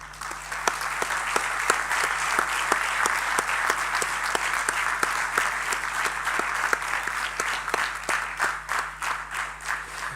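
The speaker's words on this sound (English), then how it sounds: "Could you please congratulate them by giving a round of applause?" An audience at a campus convocation gives a sustained round of applause, with steady, full clapping from a large crowd and a faint hum beneath, easing slightly toward the end.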